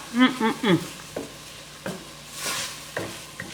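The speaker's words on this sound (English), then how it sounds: "It needs to toast. I'll give it about 10 minutes. Stirring." Cornmeal toasting in a pot for fungi, with a spoon stirring and scraping in irregular strokes over a low sizzle and a short hum of voice near the start.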